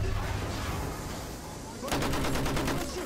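Rapid SMG fire in the World War I shooter Battlefield 1, a steady burst of close, loud automatic shots against constant battlefield noise, tightening into distinct rhythmic cracks near the end.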